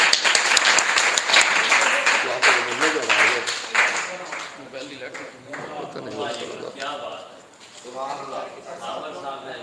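An audience at an Urdu poetry mushaira in Jhawarian claps for a poet. The applause is steady at first and thins out as a voice speaks over it and then carries on alone.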